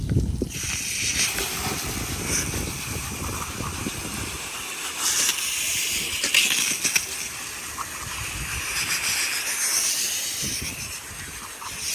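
Water from a garden hose with a hole in it spraying into the engine bay of a Ford Mustang EcoBoost, a loud steady rushing hiss with spattering against metal that swells and shifts as the stream moves.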